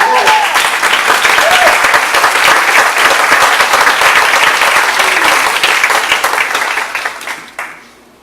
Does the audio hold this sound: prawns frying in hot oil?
no